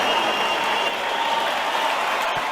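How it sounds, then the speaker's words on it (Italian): Crowd at a mock karate tournament bout claps in a steady, dense wash that holds level throughout, without distinct individual claps. "Un applauso."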